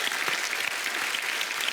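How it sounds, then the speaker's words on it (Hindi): A studio audience at a comedy talk show claps throughout, a dense, steady wash of applause that stays loud and even from start to finish. "तालियां फॉर मिजान।"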